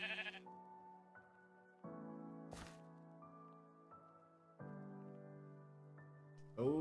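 Sheep bleat in a Minecraft modpack, several drawn-out synthetic baas in sequence, clear and alone over quiet game sounds.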